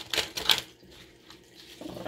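Tarot cards being shuffled by hand in two quick riffling bursts near the start, then quieter rustling; close and fairly soft, with no talking.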